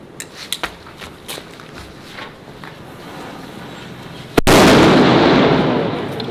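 A Diwali sutli firecracker goes off with a single loud, sharp blast near the end, followed by a lingering roar, after quieter outdoor rustling and a few faint pops.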